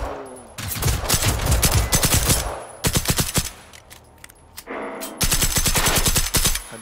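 Sustained automatic gunfire aimed at robots in the game Generation Zero, loud rapid bursts with brief pauses and a shifting tone as volleys resume, close and dominant.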